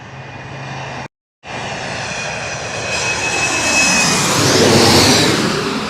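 A jet airliner landing at an airport in Queens, New York, its engines roaring loud and close with throttle changes swelling the sound, a brief dropout near the start, then rising and sustained thrust.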